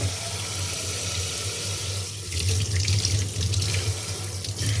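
Soaked rice being washed under a steadily running kitchen tap, water streaming continuously into a sink for several seconds, growing a little louder and splashier partway through, with no voices.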